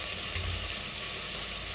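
Chopped tomatoes sauté in a pan on low heat, giving a steady, even sizzle that hisses close by without pause.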